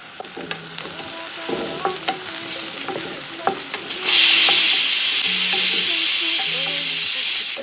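Onion and green chillies sautéed in a pan with garlic, a spoon scraping and tapping repeatedly before a loud steady sizzle takes over for the last few seconds, close by.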